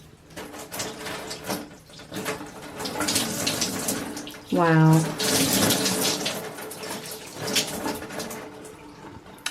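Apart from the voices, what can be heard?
water poured over a cleaned shower surface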